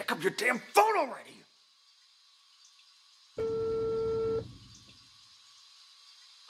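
Telephone tones in the Empty Frame video game: a steady, clear electronic tone lasting about a second after a stretch of speech, with a faint steady hum running underneath.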